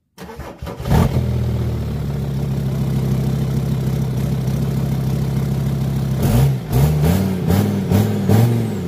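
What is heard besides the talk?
VW T5 van engine starting and idling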